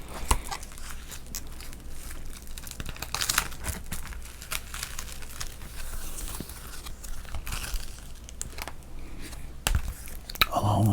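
Old sports cards, including early-1980s Fleer and Donruss, are handled and flipped close up, giving soft crinkling and papery rustles with occasional sharper snaps.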